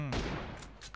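A single burst of gunfire in the mobile battle game PUBG Mobile: a sharp, faint crack with a short decaying tail.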